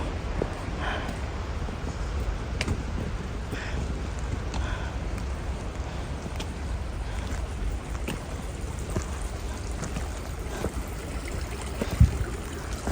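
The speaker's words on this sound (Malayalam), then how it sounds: "അരുവിയിൽ കാണുന്ന വെള്ളമൊക്കെ ഞാൻ എടുത്താ കുടിക്കുന്നേ" A mountain stream flows through rainy forest on the Annapurna trek, a steady, even rush of water filling the whole stretch, with a few faint knocks and one sharp tap near the end.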